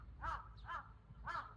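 Three hoarse crow caws spaced across a second and a half, fairly close and clear over a low steady outdoor hum, from a small group of crows lingering in one spot.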